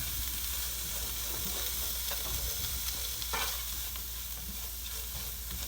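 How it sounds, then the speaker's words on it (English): Garam masala and curry powder sauté in a hot pan for a vegetable lentil stew, giving a steady, close sizzle with occasional stirring scrapes and no talking. "And we're going to add our spice mixture, the garam masala and the curry powder. We're going to saute this until it's nice and fragrant."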